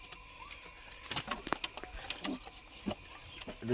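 Pigeons kept for sale coo at a home loft, soft repeated low coos mixed with wing flutters and small knocks, fairly close and moderately quiet.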